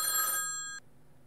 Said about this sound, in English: suddenly the phone rang and startled them